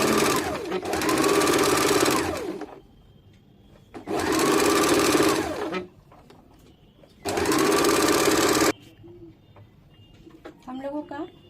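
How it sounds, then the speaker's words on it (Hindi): A sewing machine stitches a doubled net belt for an umbrella baby frock in three loud, close bursts of about two seconds each, separated by quiet pauses with faint background sounds. "अब इसको सिलाई कर लेंगे।"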